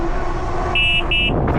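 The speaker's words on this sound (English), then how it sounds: "Found the horn. We got a horn" Two short, bright electronic beeps from the horn of a Mokwheel Obsidian ST e-bike cut through road and wind noise while riding.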